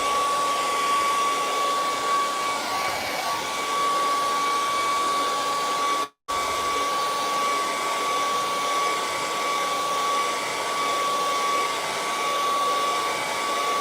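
A hair dryer blows steadily on a watercolor painting of a Thai river scene, a loud, even whooshing hum that cuts out for a split second midway before resuming at the same level.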